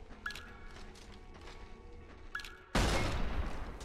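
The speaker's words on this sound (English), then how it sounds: "Mind showing my mom how you fire a Magnum?" A Magnum pistol fires in the shooter Resistance 3, a sudden loud, close blast with a long noisy tail erupting after quieter ambient sounds and faint mechanical clicks.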